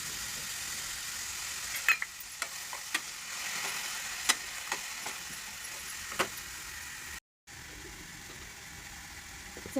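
Cabbage sabzi with soaked chana dal being stirred in a frying pan, a steady soft sizzle with a few sharp clinks and scrapes of the spoon against the pan, close and moderately quiet, no talking.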